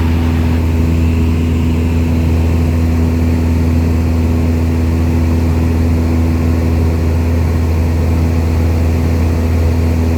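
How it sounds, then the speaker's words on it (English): A light aircraft's propeller engine drones loud and steady throughout the flight, a constant low hum with no talking. "now you hear the engine starting to pick up a little bit"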